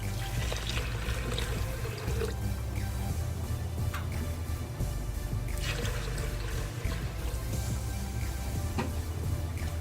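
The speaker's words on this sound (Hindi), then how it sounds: "अब इसमें डालें 2 ग्लासेस ऑफ वाटर।" Two glasses of water poured into moong masoor dal in a cooking pot, a continuous close splashing gush with bubbly glugs, strong and unbroken across the whole stretch.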